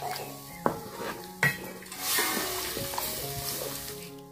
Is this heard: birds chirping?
no